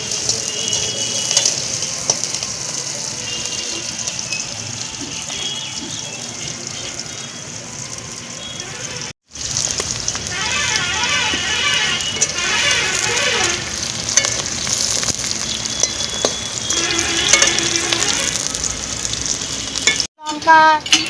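Taro stolons frying in a pan with garlic and onion, a loud continuous sizzle with spatula scraping and stirring close up, briefly cut twice.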